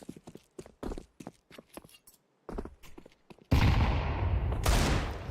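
Desert Eagle pistol shots in a competitive Counter-Strike match: a string of sharp, clipped game gunshots in uneven bursts, then a dense, loud roar of in-game noise.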